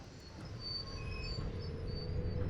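A Luzern–Sursee RAB523 Flirt electric multiple unit in a train simulator runs steadily, with a continuous rumble and faint high wheel squeals over the rails, alone and without talk.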